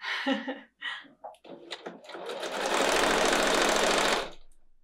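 A home sewing machine runs in a steady, loud whirring burst as it stitches fabric scraps for a small clutch, preceded by short stop-start spurts of stitching and soft handling noises.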